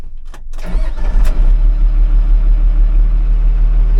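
An old Cummins diesel in a piece of heavy equipment at an auction turns over, catches and settles into a loud, steady, rough-running idle, close by with no talk.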